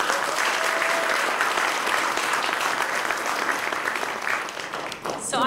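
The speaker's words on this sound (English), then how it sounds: "Let's give them a round of applause." Audience at an El Salvador peace accords anniversary event breaks into steady applause, many hands clapping together at moderate loudness for several seconds before a brief dip and a final flurry.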